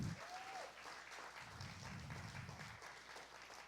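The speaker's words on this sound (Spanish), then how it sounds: "Denle un aplauso al Señor." Church congregation applauding, a steady wash of clapping throughout with faint crowd noise beneath, heard at a distance and fairly quiet.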